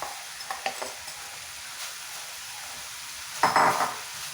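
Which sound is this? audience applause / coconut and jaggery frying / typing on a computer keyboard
coconut and jaggery frying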